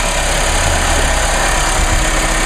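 A 1.8 liter four-cylinder turbocharged car engine idles under an open hood, a smooth, steady, close hum with a constant low rumble and no voices.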